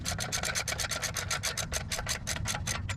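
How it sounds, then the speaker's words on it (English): A short ratchet with a 35mm socket slowly draws a CV axle into place on a Lexus GX470, giving a fast, steady run of close, even clicks with no talking. "I'm just going to get on here with a short ratchet and 35mm socket and slowly draw it in the rest of the way."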